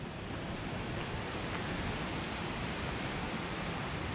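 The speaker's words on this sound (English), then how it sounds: "Fast flowing River Eden." The fast-flowing River Eden rushes in a dense, steady broadband wash of water, constant and fairly close, with no voices.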